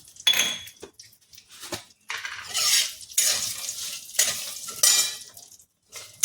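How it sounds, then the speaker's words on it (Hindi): Cashews, curry leaves, cumin and salt fry in a pan while a utensil stirs and scrapes, producing bursts of sizzling and metallic clatter separated by short quiet gaps. "काजू फ्राई हो जाए"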